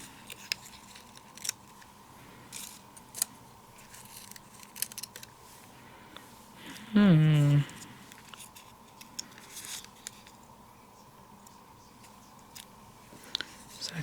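Scissors snipping through cardstock while making a festive easel card, one brief, close crisp cut standing out from a quiet room.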